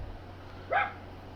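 One short dog bark in the distance, carried over a steady low background hum from outdoors, somewhat faint and isolated.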